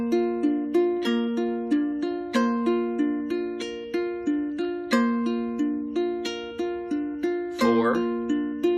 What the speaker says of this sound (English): And then to the arpeggio, which sounds like this.